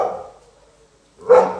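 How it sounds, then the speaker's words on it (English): A dog barks twice at home: one muffled woof at the start, then a short pause and a louder, sharper bark close by, with no talking. "These are my dogs barking."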